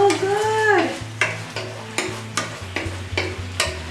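Tofu stir-frying in Schezwan sauce with green beans, a steady close sizzle broken by repeated sharp scraping strokes of the spatula in the pan, with no talking.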